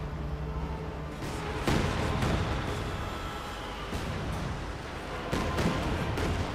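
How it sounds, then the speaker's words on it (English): A Katyusha rocket barrage in Company of Heroes 2 rolls out as a muffled, rumbling wash of launches and distant impacts, with a few sharper booms standing out against continuous battle noise. "First Katyusha barrage right there from Luvnest, flying across the skies"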